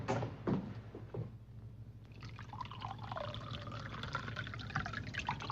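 Brandy pours into a glass in a quiet room, a soft liquid trickle close at hand with faint clinks and shuffles around it.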